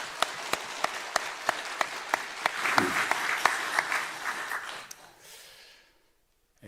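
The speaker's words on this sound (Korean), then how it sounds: "우리 같이 한번 영광의 박수를 올려드릴까요?" A congregation at a church retirement thanksgiving service bursts into steady applause, with sharp individual claps standing out over the full crowd sound before it tapers off into near silence.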